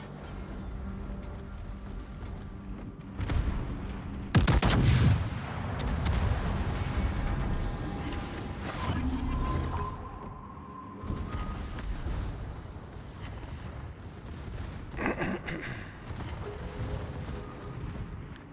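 Naval guns and secondary batteries fire in a ship-battle video game, sending repeated booms, rumbling blasts and crackling impacts through a dense, continuous wash of battle noise, loud and busy across the whole stretch.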